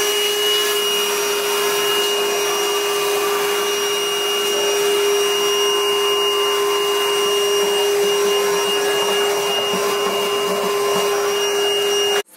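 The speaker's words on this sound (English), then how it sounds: "So now I'm about to vacuum." A vacuum cleaner running in a house, a loud, steady whine with a constant high tone held close by for the whole stretch, cutting off abruptly at the end.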